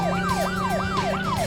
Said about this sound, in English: let's turn on our sirens